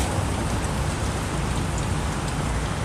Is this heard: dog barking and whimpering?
no